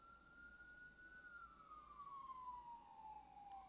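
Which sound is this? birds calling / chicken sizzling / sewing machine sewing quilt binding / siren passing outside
siren passing outside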